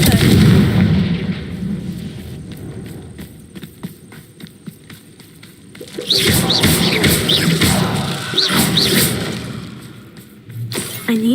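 Fiery Confringo spell blasts in the Hogwarts Legacy game, a series of booming explosive hits with rumbling bursts mixed with other game effects, loud and repeated.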